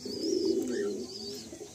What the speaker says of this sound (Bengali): এখানে দেখুন কত ছোট সেকশনে পায়রা,